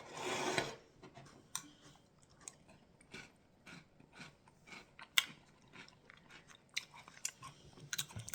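Homemade hardtack flakes crunch between teeth in close, quiet, irregular bites and chews, one louder crunch at the start and then steady smaller crackling chews.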